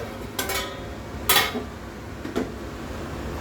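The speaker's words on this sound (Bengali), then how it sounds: "এবার ঢাকনা দিয়ে রাখছি" A lid set onto a pot of malai prawn curry, a few light metallic clinks and knocks spaced over a few seconds, close by in a quiet kitchen, no talk.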